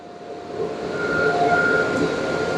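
A homemade waste vegetable oil burner fed by a bounce house blower, a loud steady roaring rush of air and flame that builds slightly and holds, with faint tonal whines on top.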